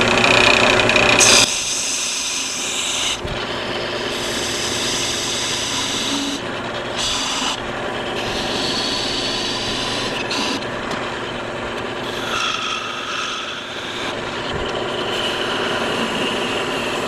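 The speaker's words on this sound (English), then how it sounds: "with what I call my finishing parting tool, which is just a slightly narrow parting tool" A narrow parting tool cuts into spinning wood on a lathe, parting off a turned ring post: steady, close rasping and scraping over the lathe's hum, with short pauses and shifts in pressure.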